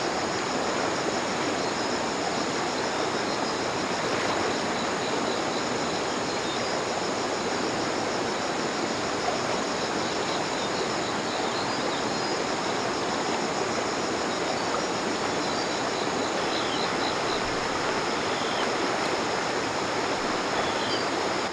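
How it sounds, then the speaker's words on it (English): Continuous rushing of a stream flowing over stones, steady and full, close by with no voices for the whole stretch. "I can hear the water moving over the stones"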